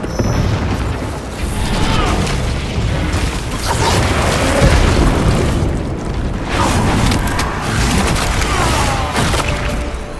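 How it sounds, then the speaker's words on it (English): A frag grenade detonates in the video game Space Marine 2, giving a loud, rumbling boom that rolls on as a sustained roar of noise for several seconds. "Releasing frag grenade!"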